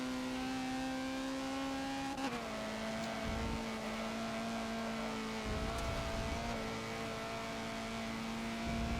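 A Honda CRX racing at night on the Nürburgring GP circuit in Forza, steady high engine drone throughout with a brief throttle lift and pitch dip partway, no voices.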